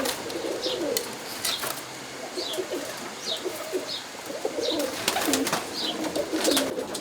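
Roller pigeons coo and squabble over perches in a loft, repeated throaty coos and short sharp chirps and scuffles overlapping at close range, with no talking.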